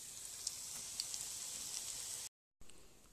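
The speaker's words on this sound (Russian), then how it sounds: "Обжариваю буквально минутки по три, наверное, с двух сторон." A steady, soft sizzle of zucchini fritter batter frying in hot oil fills the pan, with faint pops and crackles and a short break near the end.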